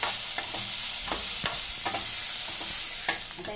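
Coriander leaves sizzle while roasting in a pan for a tender jackfruit bhaji, giving a steady bright hiss broken by several soft scraping stir strokes, with no voices.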